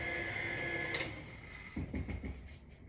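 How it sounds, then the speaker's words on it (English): Electric mixer whirring steadily through carrot cake batter, a continuous motor hum with a brief clank midway and lumpier churning toward the end, fairly quiet and alone. "you can kick the mixer up to the second setting"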